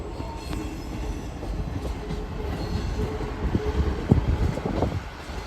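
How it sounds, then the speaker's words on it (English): Northern train service pulling out of Carlisle station, a steady rumble of rolling wheels with squeals and clacks building slightly, fairly close and loud, no talk over it. "Also departing is a northern service off to Newcastle,"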